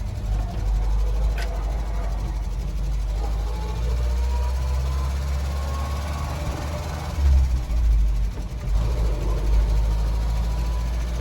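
Steady low engine-like rumble and road drone from a milk float on a test drive along roads used by big quarry wagons, continuous throughout with slight swells near the end and no talking.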